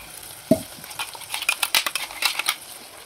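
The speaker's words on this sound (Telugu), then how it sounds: "మనం వేసిన మసాలా 1-5 నిమిషాల పాటు మీడియం ఫ్లేమ్లో బాగా మగ్గనివ్వాలి." Ground masala paste thinned with a little water sizzles in a pan on medium flame for an egg curry, with a sharp clink and then a run of rhythmic stirring scrapes over the steady frying hiss.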